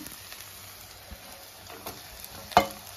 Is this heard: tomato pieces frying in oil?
yes